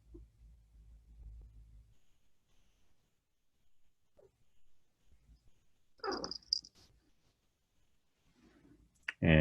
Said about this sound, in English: And if you're like me, notice the kitty.